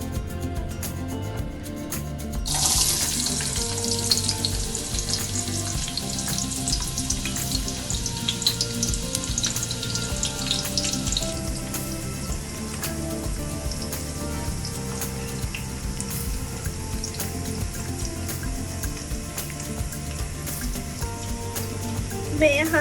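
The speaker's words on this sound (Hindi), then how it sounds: "देखिए मैंने यहाँ पे ऑयल गरम कर लिया है।" Chopped onions hit hot oil in a pan for a Delhi-style aloo gosht. A loud, steady sizzle bursts in after a couple of seconds and continues evenly to the end over soft background music.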